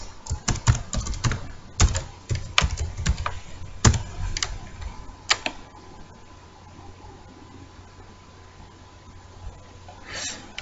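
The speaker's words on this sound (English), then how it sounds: "So we're going to put in the username, which I had earlier, which was Donica Hughes" A computer keyboard clatters as a username and password are typed in, giving quick bursts of key taps with short pauses, then a quieter stretch and a few last taps.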